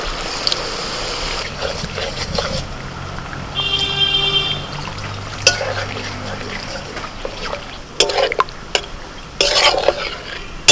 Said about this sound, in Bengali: এখন এর মধ্যে একটু জল দিয়ে দেবো ওই মশলার বাটিটা ধুয়ে একটু জল দিয়ে দিচ্ছি